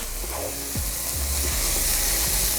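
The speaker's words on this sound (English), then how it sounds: "Stir that in." Rice stirred into a sizzling pan for Italian risotto, a close steady sizzle broken by several scraping sweeps of a spoon against the pan, with no voices.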